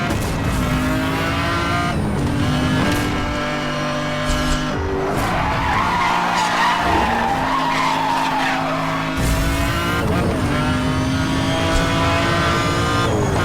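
Race car tires skidding and squealing in Need for Speed Hot Pursuit Remastered, a loud sustained screech over steady engine roar with shifting pitch, lasting most of the stretch.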